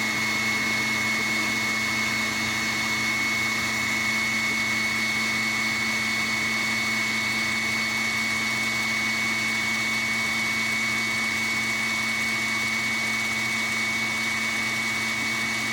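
An electric mixer whips coconut cream sweetened with honey and vanilla, a steady high motor whine droning continuously and evenly throughout, fairly close, with no voices.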